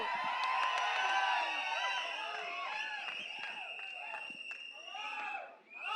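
A large event crowd cheers and whoops for a music director at a film launch, with loud sustained shouting and scattered claps that ease briefly near the end.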